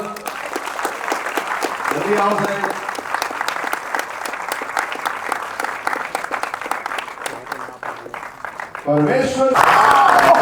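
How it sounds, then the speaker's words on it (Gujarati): A premiere audience at a Gujarati film screening in Ahmedabad applauds the actors with a continuous wash of clapping while someone speaks over it into a microphone, and the applause swells louder at the end. "હું એક્ટર્સને બોલાવી દઉં તમારા બધાની બહુ જ બધી તાળીઓ સાથે."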